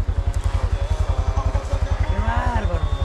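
A motorcycle idling during a Sunday mudding ride in Miami, its engine thudding in a steady rapid low pulse close by and loud, with people talking over it throughout.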